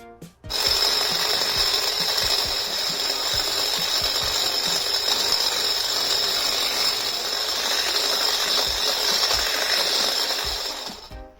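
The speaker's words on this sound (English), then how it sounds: "to prepare the Dalgona coffee, I am going to have to mix this until a light foam forms" An electric mixer whips instant coffee, sugar and water into Dalgona foam, a steady whirring buzz with a faint rattle, loud and continuous for about ten seconds with no talking.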